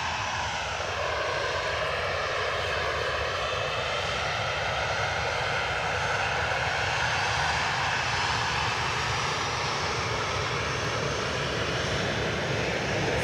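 An ATR turboprop airliner, inbound from Dublin, lands at Edinburgh Airport with a loud, steady engine roar that holds for the whole stretch, a broad continuous drone with slowly shifting tones and no talk over it.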